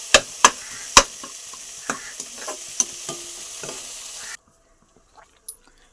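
Onions, tomato and green chilies fry in a pan for homemade Maggi, with a steady sizzle and several sharp spatula knocks and scrapes before the sound cuts to near silence with a couple of faint taps.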